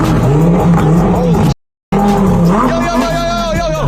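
A Lamborghini drives with loud engine revving and squealing tires, close and intense, with a brief dropout of complete silence partway through and voices mixed in.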